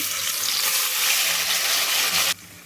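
Ginger-garlic paste dropped into hot oil with cumin seeds in a pan, giving a loud, steady hissing sizzle close by that cuts off sharply near the end, with no talk over it.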